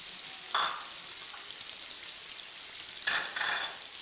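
Beef liver fries on a flat tawa with tomatoes, turmeric, salt, red chilli and green chillies, giving a steady, quiet sizzle with two brief louder bursts of stirring or spattering.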